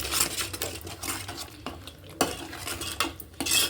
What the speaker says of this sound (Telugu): ఇదంతా బాగా ఫ్రై చేసుకుని,